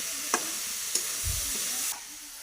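Vegetables frying in a pan just after the lid comes off, a steady bright sizzle with a couple of sharp clicks and a brief low thump, close up, the hiss easing slightly near the end.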